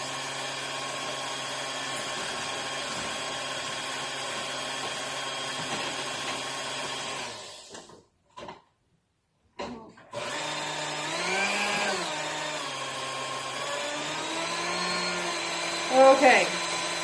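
An electric mixer creams oatmeal cake batter with a steady whining motor drone, stops for about two seconds, then starts again with its pitch wavering as the batter thickens.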